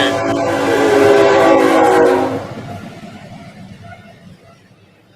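A train rumbles past with a loud, sustained horn blast that cuts off after about two seconds, leaving a fading rumble and a brief knock at the end.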